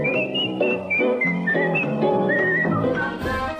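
A man whistles a lively melody of short, bright phrases, close and clear with a few slides between notes, unaccompanied and continuous throughout.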